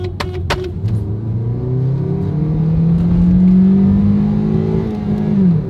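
Car accelerating hard in low gear, shifted into L while racing another car, a loud, close engine whose pitch climbs steadily over several seconds before easing off, with a few sharp clicks at the start.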